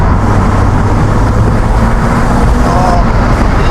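A BMW Z3 2.8 six-cylinder engine running while driving, a loud steady low drone with road and wind noise throughout, no voices.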